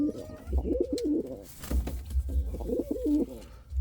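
Indian Fantail pigeons coo softly and repeatedly nearby, low throaty rolling calls in a steady rhythm, with faint wing shuffles and light thumps.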